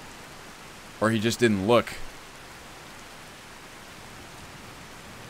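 Rain falls in the game Skyrim as a steady, even hiss of noise throughout, with someone speaking briefly over it near the start.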